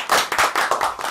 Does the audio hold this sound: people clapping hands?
yes